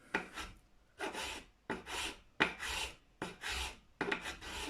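A file rasps in repeated back-and-forth strokes on the nut slot of an Ibanez Gio guitar, about seven short scraping bursts separated by brief pauses, close and fairly quiet with no talk.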